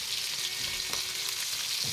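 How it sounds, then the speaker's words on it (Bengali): Onions sizzle in hot mustard oil, a steady close broadband hiss with faint stirring scrapes throughout the short stretch. "পেঁয়াজ ভাজা হচ্ছে"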